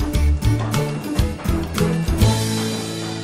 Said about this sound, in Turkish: neden müzik çalıyor?